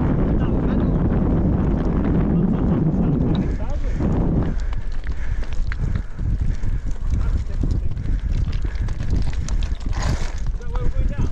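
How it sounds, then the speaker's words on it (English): Strong wind buffets the microphone on a Lake District mountain top on Skiddaw during a mountain bike ride, a loud, continuous roar with people talking through it. "It's a bit breezy up here."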